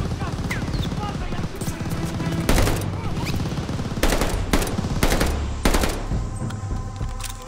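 Call of Duty: Vanguard gunfire erupts in bursts of rapid automatic shots and single cracks, loud and close, with a person talking over the firefight.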